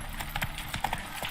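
Roach, Geralt's horse in The Witcher 3, clip-clops along at a steady walking rhythm, hoofbeats close and clear over faint background ambience.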